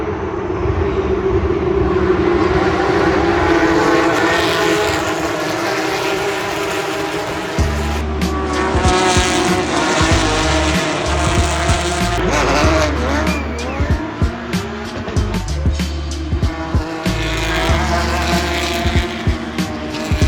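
Porsche Carrera Cup race cars launch from a standing start at Imola, a loud roaring pack of engines revving and accelerating away with rising and shifting tones, tire noise and crowd ambience nearby.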